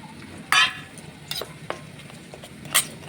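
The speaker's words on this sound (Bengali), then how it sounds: "নেড়ে চেড়ে ভালো করে মিক্সড করে নিলাম।" A spoon stirs a spice paste of mustard paste, ginger-garlic paste and cumin paste in a pan, giving a few sharp scraping strokes over a faint sizzle, with no talk.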